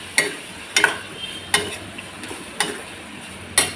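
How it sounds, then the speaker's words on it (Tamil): Tomatoes sauté in a pan under a low sizzle, with about six sharp, evenly spaced spatula taps and scrapes close by. "தக்காளி நல்லா வதங்கணும்"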